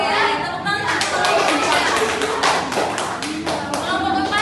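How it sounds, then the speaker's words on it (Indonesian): A classroom of students breaks into a burst of hand clapping and tapping after a group's microteaching presentation, close and fairly loud, with voices mixed in. "Oke, tepuk tangan."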